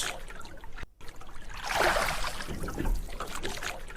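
Cartoon boat rowed on water in the Sundarbans forest, soft sloshing and trickling of water with a swelling splash of an oar stroke near the middle.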